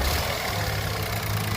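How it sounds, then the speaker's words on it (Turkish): Renault Clio 1.0 TCE engine revving, with a thin turbo wastegate whine riding over a steady, loud low engine drone throughout. "Gaz verdiğinde turbodun Westgate'inden ses geliyor."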